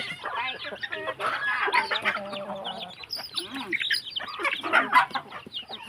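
Chickens, including fighting cocks, cluck and squawk busily nearby on a rural farm in Isan, Thailand, overlapping calls with a few higher chirps, fairly loud and without clear speech.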